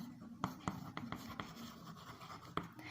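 Chalk or marker writing on a classroom board during a maths lesson, with several short, sharp taps and scratchy strokes over a steady room hiss, fairly faint and without talking.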